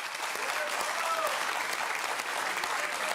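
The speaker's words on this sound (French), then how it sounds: "On peut applaudir le bandeau." A studio audience at a French television talk show claps in a brief, dense burst of applause, steady and close throughout.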